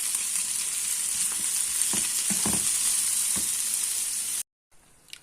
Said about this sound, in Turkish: Soğanımızı biraz kavurduk. Üstüne biberlerimizi ilave ettik. Bunları da biraz çevirelim.